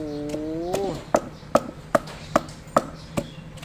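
Shallots and garlic pounded in a mortar, giving about seven sharp, evenly spaced thuds after a brief tonal sound at the start, close and moderately loud.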